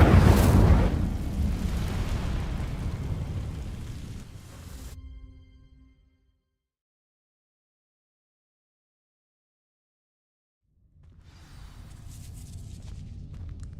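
A fire spell ignites dry vines in Hogwarts Legacy with a loud burst that roars and crackles, then fades to silence, followed by a quieter rumble returning near the end.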